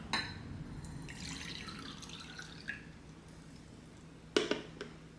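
Water is poured out of a mug resting on a USB mug warmer, producing a trickling, dripping stream with a few louder splashes and clinks near the end, close and fairly quiet.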